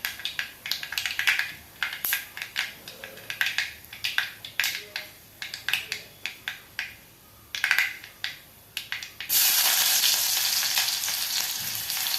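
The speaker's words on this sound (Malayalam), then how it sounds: "നമ്മൾ കടുക് പൊട്ടാൻ തുടങ്ങി" Mustard seeds pop and crackle in hot oil in quick irregular bursts, then the sizzle swells into a steady loud hiss near the end, likely as shallots go in.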